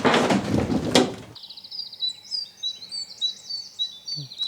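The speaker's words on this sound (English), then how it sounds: "Dang, that bird is going crazy." A bird calls loudly outdoors near a Volvo 740 T5 project car, its shrill, rapid chirps and warbles repeating steadily after a burst of loud clatter and speech at the start.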